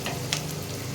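Onions frying in hot oil in a pan for restaurant-style Afghani chicken, a steady close sizzle with a brief brighter crackle partway through, no talk.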